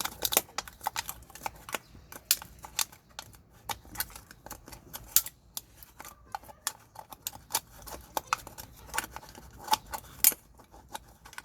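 Scissors working the folded edges of a tin can being made into a planter, a dense, steady stream of close, sharp metallic snips and clicks throughout.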